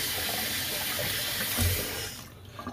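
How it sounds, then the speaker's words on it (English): Water running at a sink while rinsing after a shave with a double-edge safety razor, a close steady splashing flow that cuts off near the end. "So let me rinse real quick."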